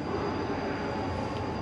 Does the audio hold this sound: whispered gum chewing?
no